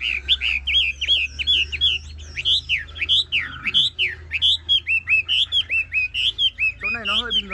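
A Chinese hwamei (họa mi) songbird, a large cage bird with a flaw in its tail feathers, sings a loud, close, continuous run of varied whistled phrases and trills, with low background hum underneath.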